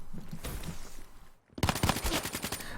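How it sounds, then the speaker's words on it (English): Pistol gunfire in Black Ops III free-for-all multiplayer, a rapid burst of sharp repeated shots after a brief quiet gap, loud and close. "I'm getting him with the pistol."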